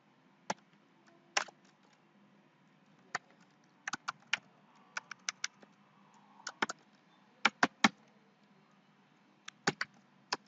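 Keys on a computer keyboard are tapped in short irregular bursts of sharp clicks, close and fairly quiet, with pauses between groups of strokes.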